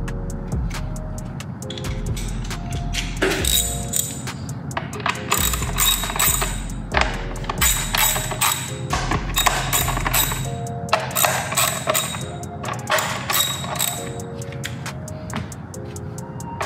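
Ratchet wrench loosening 10 mm screws on a Honda Accord valve cover, heard as repeated bursts of quick metallic clicking separated by short pauses, fairly close and clear with no talk.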